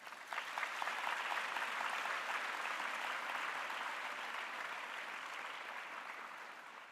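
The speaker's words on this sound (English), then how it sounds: "A warm round of applause for the team, please." Steady applause from a sizable audience at a Sri Krishna Janmashtami evening celebration, many hands clapping at once, sustained for several seconds and tapering off slightly toward the end.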